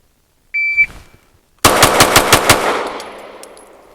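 Pistol fired with a DPM recoil system, a loud rapid string of about six shots echoing away, preceded by a short electronic shot-timer beep.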